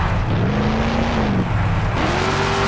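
Monster truck engine roaring and revving in the Monster Jam Urban Assault video game, a loud continuous drone with pitch rising and falling as it drives over cars, no talking.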